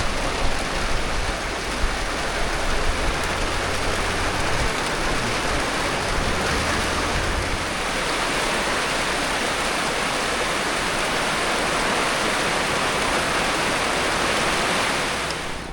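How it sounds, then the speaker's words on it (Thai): Steady heavy rain falls on a forest homestead in the mountains, a dense continuous hiss that stays loud and even throughout, with a faint low rumble in the first half and no voices. "ฝนตก"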